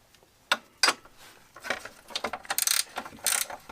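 A 15 millimeter wrench working a bolt on a 2006 Polaris Sportsman 700 front A-arm, close metallic clicks and ratchet-like bursts that start sparse and grow quicker and denser.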